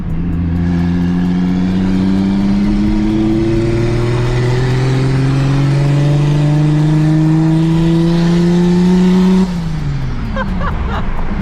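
A turbocharged 600 hp BMW 335i pulls hard from inside the cabin, its engine note climbing steadily and loudly for about nine seconds before lifting off and settling as the revs drop.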